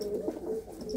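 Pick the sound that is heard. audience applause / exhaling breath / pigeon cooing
pigeon cooing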